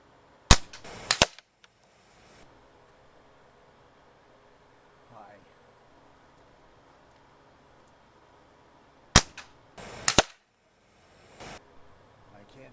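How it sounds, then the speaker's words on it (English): Air gun shots from a Crosman 760 pumper and an Umarex APX fired in a backyard, two sharp loud cracks each followed by brief target smacks, separated by quiet pauses. "We'll go with the first 4 shots with the Crosman 760."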